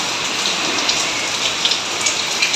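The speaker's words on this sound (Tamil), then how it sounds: "மழை காலத்தில் மழை பெய்யுற மாதிரி மழை பெய்யுது." Steady rain falls during the rainy season, a dense continuous hiss of drops on surfaces with scattered louder patters, close and even throughout with no voices.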